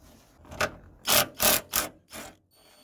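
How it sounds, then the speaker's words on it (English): A 12mm socket wrench undoes nuts on a van's front shock absorber, making five close, rasping ratchet strokes in an uneven rhythm, each a short gritty burst separated by brief pauses. "we're going to be using a 12mm socket to undo these nuts"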